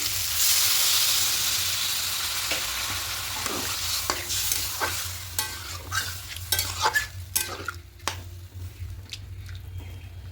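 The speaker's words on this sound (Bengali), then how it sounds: "এইভাবে দু তিন মিনিট একটু মশলাটা কষিয়ে নেব যখন কষিয়ে নিয়েছি এখানে জলটা অ্যাড করে দেবো" Spice paste sizzling loudly in oil in a pan while being stirred for a thin tilapia curry with papaya and potato, then water goes in and the hiss quickly dies down to scattered clinks and spatula taps, close and without talking.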